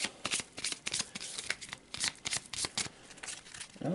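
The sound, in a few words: shuffling a deck of cards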